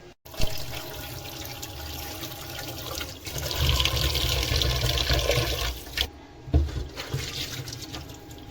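Water from a tap runs steadily as Philips air fryer parts are washed beneath it. A continuous splashing rush swells in the middle and is broken by a few knocks and clatters near the end.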